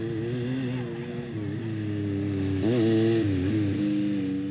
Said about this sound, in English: The bellow of camels has given way to the hum of engines here.